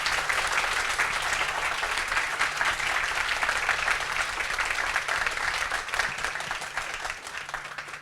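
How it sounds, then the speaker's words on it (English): Sustained audience applause fills a hall at a public talk on Jardine House in Hong Kong, dense steady clapping throughout that eases slightly toward the end. "So a round of applause for these two gentlemen."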